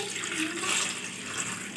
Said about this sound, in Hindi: इसमें तकरीबन ये बड़े साइज़ के 3 गिलास पानी